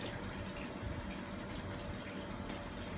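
Water runs from an Amway eSpring water purifier in a steady, faint, continuous trickle and splash, alone, with no talk.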